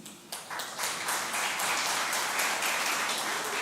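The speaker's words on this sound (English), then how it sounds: "A round of applause to them again." Applause for students at an education ministry event announcing CXC exam results, a dense steady wash of many hands clapping that builds in the first half second and then holds at an even level throughout.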